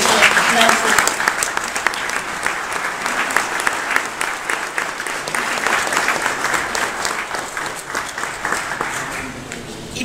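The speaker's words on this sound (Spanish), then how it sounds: "la doctora Alejandra Moreno Toscano, para quien pido un cálido aplauso." Warm audience applause for a speaker at an event held at the Secretariat of Foreign Affairs, a sustained, even wash of clapping from a crowd that tapers slightly near the end.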